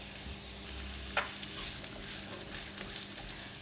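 Yellow onions and garlic sizzle softly in a pan for a chicken and corn soup, a low continuous frying hiss with one brief clink of a utensil and no speech.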